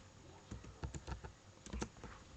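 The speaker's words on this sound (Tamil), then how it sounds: "இப்போ நான் ஏன்னு டைப் பண்ணுறேன்." Keys on a computer keyboard are pressed in quick clusters of soft, close clicks while typing into a spreadsheet, quiet overall and with no speech.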